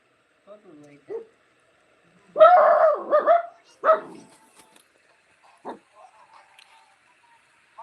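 A puppy barks and whimpers in short bursts, close by, with louder yips in the middle and softer whines trailing off, while people talk around it.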